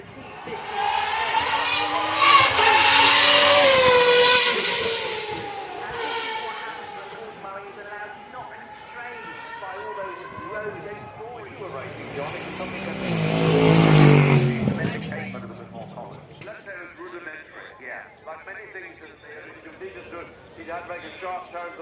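A Gordon Murray T50 supercar runs at the Goodwood Festival of Speed, its engine revving loudly and rising in pitch, then fading and surging again, all under continuous commentary from an announcer.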